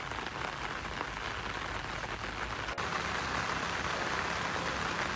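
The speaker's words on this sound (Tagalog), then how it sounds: "Ang lakas ng ulan" A downpour pours steadily, a thick, unbroken wash of rain hitting surfaces nearby, loud and even from start to finish.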